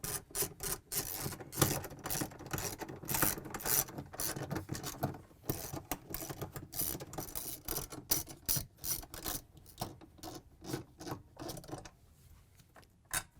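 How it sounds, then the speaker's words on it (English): A ratchet with a 13mm socket backs out six bolts on a Samsung washer clutch assembly, producing long runs of rapid, close mechanical clicking broken by short pauses, with no one talking. "we can use our ratchet again with a 13mm socket, and we're going to take out these 6 bolts"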